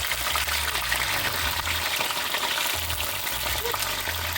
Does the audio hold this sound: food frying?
yes